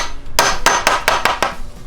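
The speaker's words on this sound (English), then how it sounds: "There's a hammer right over there you can use. Give it the old tappy tap tap." A hammer taps a pin into an end-grain wooden throwing target with six sharp, close knocks in a slightly uneven, quickening rhythm.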